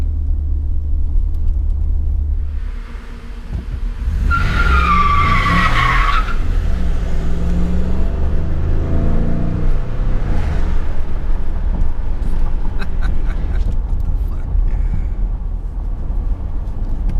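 A Ford F-150 pickup's tires skid and squeal loudly as its tail slides on dry pavement over a heavy engine rumble, the slide lasting a couple of seconds before the motor keeps running.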